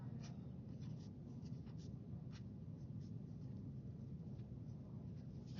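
A marker squeaks and scratches across paper while notes are written, giving soft, intermittent strokes over quiet room noise, with no voices.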